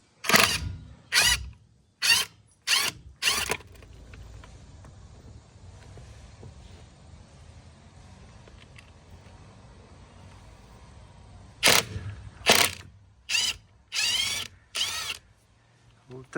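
A wrench ratchets on the 3/4 inch bolts of a boat trailer wheel, with two bursts of sharp repeated clicks at the start and end and a quiet stretch of faint handling noise between.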